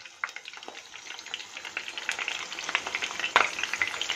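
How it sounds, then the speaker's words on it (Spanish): Prawns fry in a pan over low heat, giving a gentle, steady crackling sizzle with scattered sharper pops that grows slightly louder, and no one speaks. "Lo he puesto a fuego flojito para ir controlándola en la fritura"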